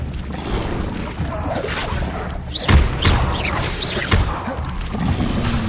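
Crackling, whooshing bursts of a fire spell in the Hogwarts Legacy video game, a dense, busy mix of magical impacts and thuds.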